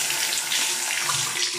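Tap water runs steadily into a sink while a PC cooling fan is rinsed under it, a continuous close hiss and splash with no talking.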